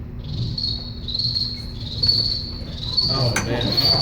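A voice imitating a cricket, giving a series of high, thin chirping trills in short repeated bursts over faint background noise.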